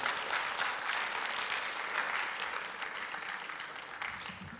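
Sustained applause fills a hall at an education summit in Dubai, a steady wash of many hands clapping at moderate loudness throughout.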